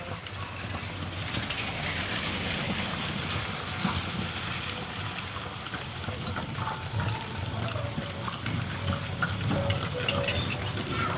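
Water from a fountain splashes and rushes in a steady, unbroken wash that fills the whole stretch, close by and fairly loud.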